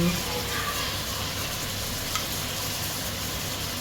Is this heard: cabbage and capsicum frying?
yes